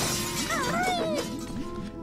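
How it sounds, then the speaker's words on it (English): Something shatters in Banjo-Tooie, a bright breaking crash with scattered glassy fragments over game music and chirping effects, heard from a distance. "You hear that thing shatter?"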